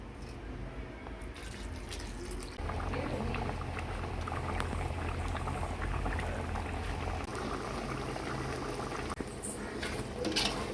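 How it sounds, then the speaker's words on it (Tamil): Thick mushroom gravy bubbles and pops steadily in a pan close by, a continuous simmering sound that grows livelier partway through. "கொஞ்சமாக தண்ணி ஊற்றி கொதிக்க வைக்கலாம்"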